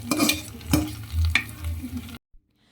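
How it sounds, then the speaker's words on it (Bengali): Hot spiced tempering poured into pressure-cooked beef curry with potatoes, giving a few brief sizzling bursts and stirring scrapes close up, then cutting off into near silence. "এই ফুরানিটা এখন মাংসের মধ্যে ঢেলে দেব"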